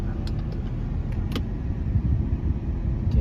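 A Jeep WJ with the 4.0 engine idles in gear with the brake held after new engine and transmission mounts, giving a steady low rumble with a few faint light clicks and no talking.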